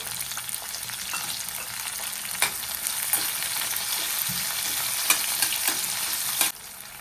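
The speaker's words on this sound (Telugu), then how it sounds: "ఆనియన్ కూడా బ్రౌన్ కలర్ వచ్చేంత వరకు వేయించుకోవాలి" Onion frying in hot oil in a pan until browned, for a bitter gourd spicy fry: a steady close sizzle with occasional clicks of stirring, no voices.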